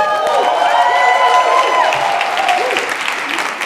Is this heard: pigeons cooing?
no